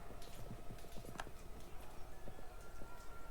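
Cavalry hooves clip-clop in an Europa Universalis IV battle, a steady game sound effect of horses moving at a fair distance under a soft background bed of game ambience.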